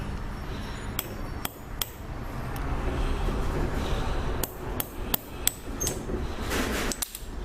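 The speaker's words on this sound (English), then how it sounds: "and I hammer out the axle from the ring" A small tapper hammer and reaming pin drive the axle out of a Trackmaster toy train engine wheel, making a string of sharp metallic taps in uneven bursts, close and crisp over a low background hum.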